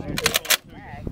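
A Browning M2 .50 caliber heavy machine gun fires a short burst of three heavy, closely spaced booming shots. A voice can be heard faintly around the shots.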